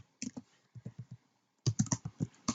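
Computer keyboard typed in two quick runs of crisp keystrokes writing Java code, the first a sparse string of taps, then a short pause before a denser, louder flurry, with no voice over it.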